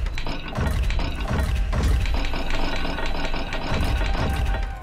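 Lock dials rotate in Hogwarts Legacy with a steady run of ratcheting mechanical clicks and grinding, layered over dense in-game ambience.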